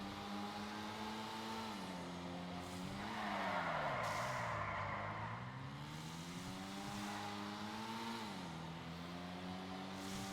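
Car in the GTA Online game braking hard into a skid, a steady loud engine drone bending down and back up in pitch as tires scrub and squeal through the middle, continuous with no talk.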